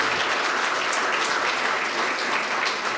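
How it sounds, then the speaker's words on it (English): A church congregation gives a round of applause for the sound and TV crew, a thick, continuous wash of clapping from a large crowd, steady and loud throughout with no voices over it. "will you give a quick round of applause to the guys running sound and the TV?"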